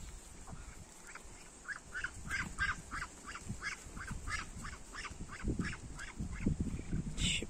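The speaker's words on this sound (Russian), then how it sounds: "Мои уточки пришли с пруда. Тоже вот они, видите, как время подходит, они идут и шумят, что давайте нам кушать." Farm ducks coming up from a pond quack in a lively, repeated chorus of honking calls, close by and fairly loud, over a low background of shuffling and rustle.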